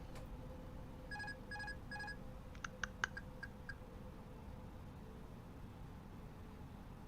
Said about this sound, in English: That's my text notification.